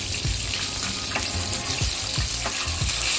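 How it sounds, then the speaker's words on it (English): Fish fries in hot oil in a pan, giving a loud, steady sizzle with occasional low knocks and pops as the fillet shifts and moves. "Then once the fish begins to shake and move in the pan, that means it is well fried."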